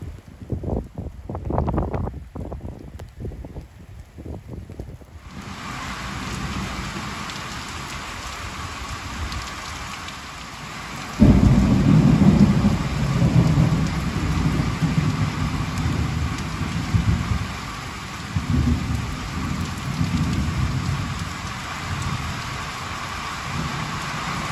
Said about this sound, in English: I'm sharing these clips just so viewers have a feel for what the monsoons are like here in Tucson.